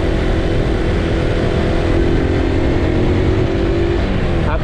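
A motorcycle engine drones steadily while riding on a road at moderate speed, a constant loud hum with wind rush and no pauses.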